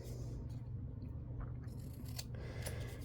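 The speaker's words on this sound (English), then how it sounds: "we can cut here, cut there, cut the little extra" Scissors snip through paper while making a boho journal tag, a few quick close cuts over a steady low hum in the room.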